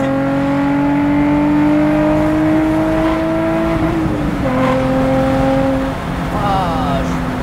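Nissan 350Z Cabriolet engine revving through its exhaust, a steady loud drone whose pitch climbs and holds, dips around the middle, then rises again, with people talking over it.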